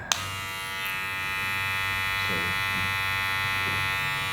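Wahl Senior cordless hair clippers buzz steadily with a high-pitched whine after a click switches them on, running continuously and close.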